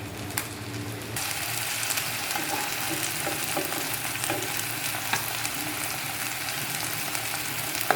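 Pieces of an instant breakfast dish fry with a steady, close sizzle in a pan as they are turned over one by one, with soft scrapes and clicks of utensils over the constant crackle.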